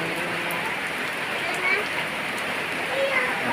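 Light evening rain falling outdoors, a steady soft hiss of drops pattering on surfaces, even and unbroken throughout at moderate loudness.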